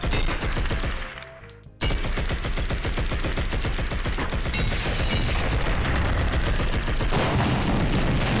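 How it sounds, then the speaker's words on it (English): Fireworks burst in the video game Blood and Bacon as a dense, loud stream of rapid crackling pops and booms, briefly cutting out before resuming at full intensity. "It's fireworks."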